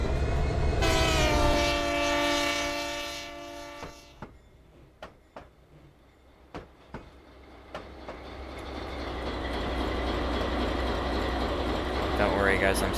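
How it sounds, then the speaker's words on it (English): Horn of a BNSF coal train in the Trainz 19 simulator, a loud sustained multi-tone blast lasting a few seconds, then rhythmic clicking wheels over rail joints as the rumble of the moving train builds again. "I'm still blowing the horn."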